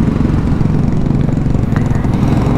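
A Yamaha XMAX scooter engine on a test ride, a loud, steady, close-up mid-pitched motor drone with a slightly pulsing texture, running continuously with no speech.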